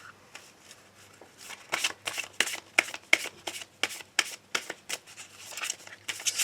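Tarot cards shuffled for a daily reading, a run of quick riffling bursts that grow denser and louder, close and clear with no voice.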